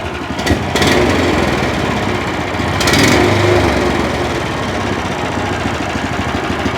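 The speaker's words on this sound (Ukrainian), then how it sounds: "Забів мотоблочок, заслонку відкрив. Додав трохи обертів." A Motor Sich MB-16E walk-behind tractor engine runs loud and close, a steady buzzing drone that rises as the revs climb and then holds high without pause.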